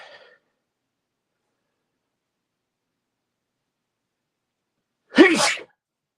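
A single loud, close human sneeze near the end, preceded by a brief faint breath and long silence.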